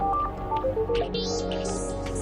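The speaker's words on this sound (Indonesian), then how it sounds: "Si Ben kenapa juga sih pakai nelfon aku lagi keadaan begini?" A mobile phone rings with an incoming call, its short melodic ringtone playing clearly up close before fading under a quieter background.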